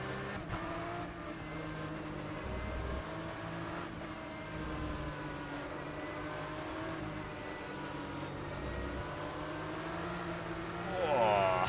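A Porsche 911 GT3 Cup race car engine drones steadily on the Indianapolis Road Course, rising slightly near the end as the driver talks over the continuous engine note.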